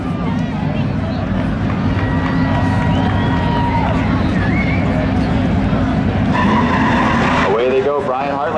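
Race cars pull off the line at a Seekonk Speedway spectator drag event, including an 02 Camaro, with a loud continuous engine roar and tire noise under an announcer's commentary.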